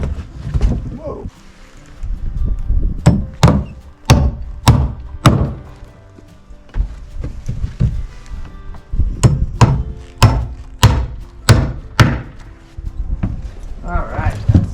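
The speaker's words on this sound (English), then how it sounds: "All right, that's nailed together." Hammer blows drive nails into wood framing on a home build where windows are being added: sharp, loud, close strikes land in quick runs of several hits, with pauses between the runs.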